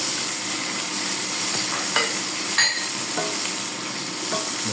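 Tomatoes are stirred into milkfish adobo frying in oily fat in a pan, giving steady loud sizzling with a few sharp clinks of a utensil against the pan.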